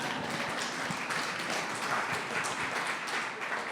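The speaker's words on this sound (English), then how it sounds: "You can clap, that's cool." Audience clapping after a reading at a talk event, a soft, distant, even patter of many hands that holds steady throughout.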